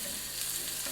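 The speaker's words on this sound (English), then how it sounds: "And it'll get those onions a nice golden color." Onions fry in a pan with smoked paprika, making a short, soft, even sizzle close by, with no talking.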